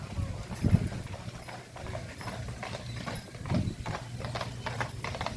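Horse hooves clip-clop on pavement on Mackinac Island in an uneven rhythm, with a couple of louder hoof strikes standing out against steady background street noise.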